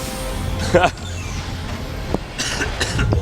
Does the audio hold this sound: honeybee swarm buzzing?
no